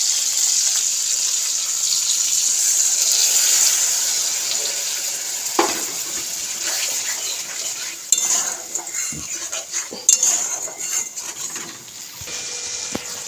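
Raw jackfruit being stir-fried in a ginger, cumin and coriander spice paste in a pan, with a continuous hiss of frying and intermittent spoon scrapes and clinks against the metal.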